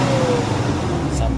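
Nissan Urvan NV350 van engine with a low-power fault, held at about 2000 RPM, giving a steady close drone with a faint rising tone, under people talking nearby.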